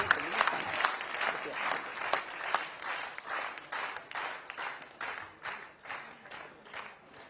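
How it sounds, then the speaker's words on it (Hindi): An audience at a Hindi poetry recital bursts into rhythmic clapping, a series of evenly spaced group claps that keep a steady beat, moderately loud with a faint voice now and then. "ताली बजाइए जोरदार"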